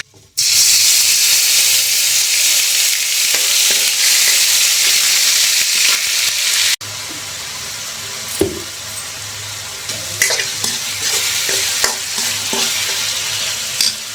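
Tomato and green chili paste hitting a hot pan in a home kitchen, a loud, dense sizzle that settles into a softer steady frying hiss with occasional stirring knocks.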